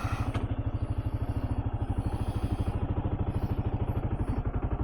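A Kawasaki KLR 650 motorcycle engine idles close by with a steady, fast thumping pulse, loud and even throughout, after a brief click at the start.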